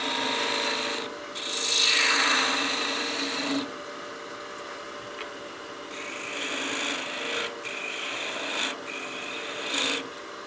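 A woodturning tool cuts a spinning piece of wood on a lathe to clean up tear-out for a bat house ornament. It makes a steady, close, rasping hiss that swells and eases as the cut presses in and lifts, with no talk.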